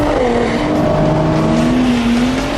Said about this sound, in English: Now you just put the power down, use four-wheel drive to jump out of the corner